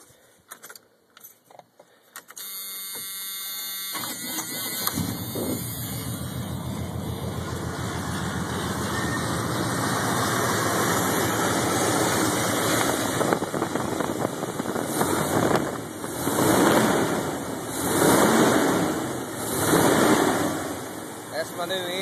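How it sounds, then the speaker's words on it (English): A 1985 Chevy Silverado with glass pack exhaust idles after a somewhat cold start, a steady, close, rumbling run that holds on without a break after a few short clanks and jingles at the start. "And I'm gonna let y'all hear it run."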